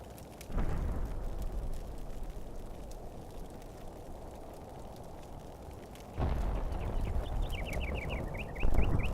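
Heavy battle explosions in the Combat Mission: Beyond Overlord wargame, loud rumbling blasts in two long bursts with a short sharp crack at the end, no talking.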